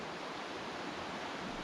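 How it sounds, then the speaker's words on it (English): Broad, steady rushing of river rapids heard from a trail above, a continuous even roar with no breaks or voices. "Beautiful river down there."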